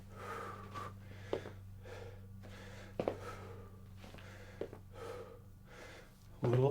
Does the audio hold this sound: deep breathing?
yes